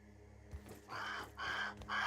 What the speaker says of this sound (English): I know how loud that crow is.